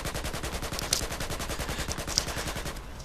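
Rapid automatic gunfire from a student-made video game rattles in a steady, fast stream of shots, mid-level and continuous, with no voices.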